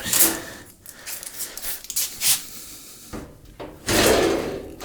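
A drawer under the oven of an Electrolux gas stove slides open with scraping, knocking metallic rattles and a bang, loud and close by, in several separate bursts.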